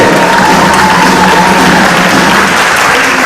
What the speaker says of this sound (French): Donc on les applaudit bien fort avant qu'ils commencent